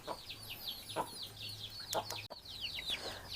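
Several chickens in a farm shed cluck repeatedly in short, uneven bursts, fairly close, over a low steady hum, with one thin high squeak.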